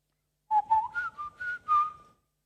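A person whistles a soft imitation of a blackbird's song, a short phrase of five or six clear, gliding notes, close and alone in a quiet room.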